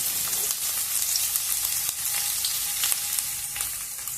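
Chopped onions and ginger frying in a pan for egg fried rice, a dense continuous hiss and crackle close up with scattered sharper pops, loud and steady throughout without talk.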